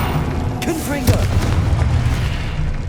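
Deep booming blasts from the Confringo spell in Hogwarts Legacy roll out beneath a voice shouting, with low rumbling impacts that linger across the moment.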